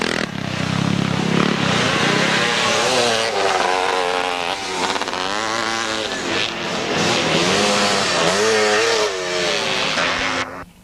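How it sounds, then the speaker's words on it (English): Montesa scramble motorcycles racing at the Hawkstone classic scramble, 1999, a loud continuous two-stroke engine snarl with rising and falling revs as bikes accelerate and pass close by throughout. "Steve Vanstone from Exeter riding a Montesa Matisse."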